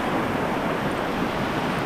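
A whitewater play wave on Michigan's Bear River gives a close, steady rushing roar of churning water with no break and no voices.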